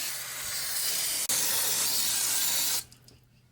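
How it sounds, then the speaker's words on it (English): Aerosol brake cleaner sprays onto a car's brake pads and rotor in a loud, close, steady hiss, broken once by a split-second pause, then cut off, leaving faint dripping and ambience. "So now we'll just give these a little bath in some brake cleaner"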